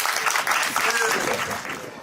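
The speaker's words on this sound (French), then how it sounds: "Je voudrais donc que vous puissiez applaudir pour lui" Guests at a customary wedding clap together in a steady, dense round of applause that carries on throughout, with some voices mixed in among the clapping.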